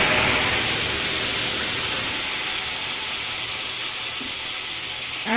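Ground spice masala hitting hot oil tempered with whole cumin, dried red chillies and bay leaves, giving a steady loud broadband sizzle and hiss that holds evenly throughout, with no voices.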